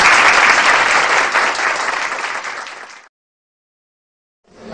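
Loud audience applause at a psychology conference session, dense steady clapping that fades and cuts off into silence before a brief new burst of clapping at the end.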